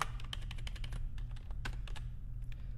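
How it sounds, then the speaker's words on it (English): Rapid, uneven keystrokes clatter on a computer keyboard in a home office, close and steady over a low constant hum, with no voices. "I am having the worst day typing."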